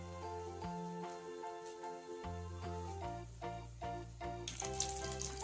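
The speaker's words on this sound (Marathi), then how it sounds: "कमी आचेवर छान असा वडा तळून घ्यायचा खरपूस होईपर्यंत." Vada fries in hot oil over low heat for vada pav, a steady close sizzle and crackle running beneath background music, with no talking.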